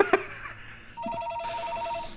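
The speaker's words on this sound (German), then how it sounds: "das war mal nur ein Telefon, das war gar kein Problem für mich" Telephone ringing in the indie horror game Unfollow, a thin electronic tone with repeated short beeping pulses, faint and alone after a brief clatter at the start.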